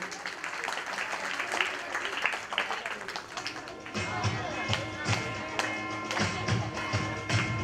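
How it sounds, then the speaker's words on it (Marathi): An audience claps for a performer at a religious discourse event in Pimpalgaon. A dense, steady patter of applause runs for several seconds, then a sustained musical tone joins in partway, with voices mixed faintly underneath. "तिच्यासाठी जोरदार टाळ्या झाल्या पाहिजे."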